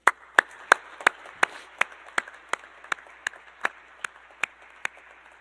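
Light, sparse applause at a university aerospace engineering senior celebration: about a dozen separate sharp claps spaced evenly over a faint background, sounding like only one or a few people clapping rather than a full crowd.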